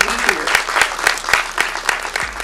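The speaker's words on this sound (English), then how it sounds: "Let's keep the claps for a little later" An audience at a film festival event applauds with dense, rhythmic clapping that sounds full and steady, with a few voices faintly mixed in.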